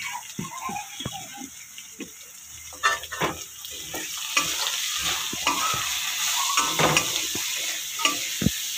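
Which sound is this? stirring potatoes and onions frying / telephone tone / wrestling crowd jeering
stirring potatoes and onions frying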